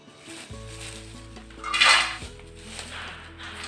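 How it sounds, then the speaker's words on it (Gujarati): Dried ginger is tipped into a metal vessel with a brief burst of bright metallic clatter and scraping, set against a low, steady background hum. "તો હવે આ આદુને આપણે એક વાસણમાં ભરી લેવાનું છે"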